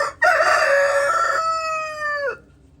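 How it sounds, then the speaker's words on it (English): A single loud rooster crow, close by, rising and then drawn out before breaking off abruptly, with no other sounds around it, outdoors on a farm with chickens and guineafowl. "I have guineas, chickens,"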